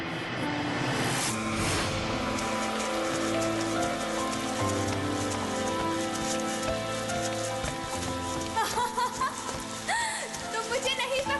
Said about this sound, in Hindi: बहुत तेज बारिश हो रही है, मुझे कुछ नजर नहीं आ रहा।